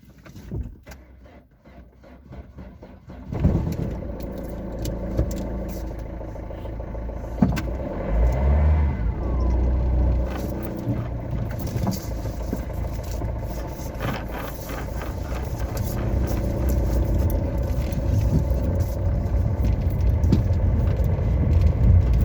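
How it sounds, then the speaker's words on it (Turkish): Father's car driven at night, a steady engine and road rumble with rising speed toward the end, heard close from inside the cabin after a quiet start. "Konuşmayacağım arabayı sürerken arkadaşlar."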